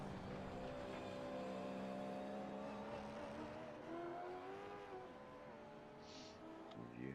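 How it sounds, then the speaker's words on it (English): Gen3 V8 Supercars in a sim racing game drone around the track during warm-up, a continuous engine note rising and falling with gear changes, steady and fairly loud, with no talking. "A lot of cars going out for warm-up."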